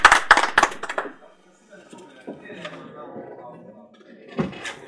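At an exchange session with the governor of Kayes and Mali's ambassador to France, a short burst of sharp, close hand claps opens, then quickly gives way to quieter murmuring talk and background shuffling.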